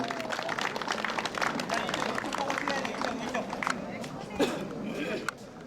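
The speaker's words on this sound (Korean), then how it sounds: "다시 한번 큰 박수 부탁드리겠습니다" Sustained clapping from the audience at the awards ceremony of a national amateur tennis tournament. Dense applause and crowd murmur run for several seconds before thinning toward the end, with a few louder individual claps standing out.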